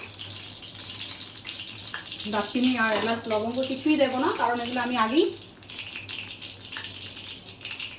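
Ghee heats in a kadai while prawn biryani is being cooked, giving off a steady frying hiss and sizzle that runs underneath someone speaking throughout.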